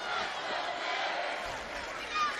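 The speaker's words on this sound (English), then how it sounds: "Good crowd made the trip some 85 miles from Poughkeepsie here to Albany, rooting for the Red Foxes" A large basketball crowd at a college tournament semifinal in Albany, cheering for Marist's Red Foxes, forms a steady wash of distant roaring and shouting with no clear break.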